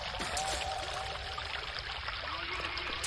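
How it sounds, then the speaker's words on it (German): A waterfall in the video game Shadow Man Remastered makes a continuous rushing, pouring wash of water, fairly near and steady throughout. "Ah, ein Wasserfall."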